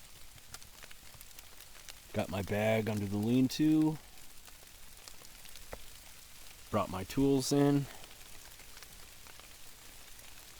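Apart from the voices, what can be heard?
rain falling on a bush camp lean-to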